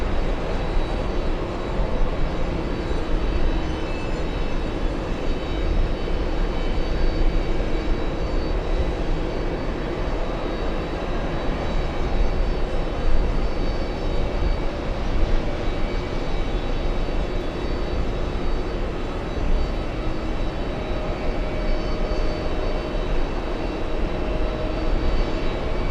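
A jet airliner takes off from runway 22 Right at JFK, its engine roar steady and loud, broad and continuous throughout with no talk over it.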